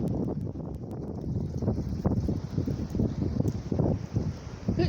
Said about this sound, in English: It's becoming increasingly breezy, and the trees keep dropping things on my head.